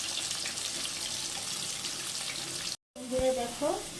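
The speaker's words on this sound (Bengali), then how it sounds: "আলু ভাজা হয়ে গেছে" A steady hiss of potatoes frying in hot oil fills the clip, then cuts off briefly and is followed by a voice talking over clinks.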